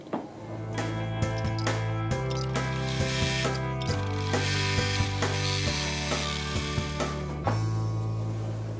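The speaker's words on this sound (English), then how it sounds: "it will stitch the satin stitch at the top of the chin" An embroidery machine sews a satin stitch on a monster bib, its needle hammering in a fast, steady mechanical rhythm with a constant motor hum, loud and close and running without pause.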